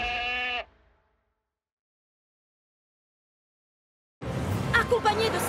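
A cartoon goat gives one short, bright bleat, followed by a few seconds of silence before busy voices and sound start up again.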